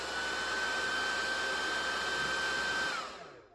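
A fog machine runs with a steady, loud airy hiss and a thin constant whine, then cuts off and fades quickly near the end, with no talking.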